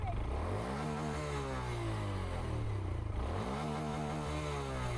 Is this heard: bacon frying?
no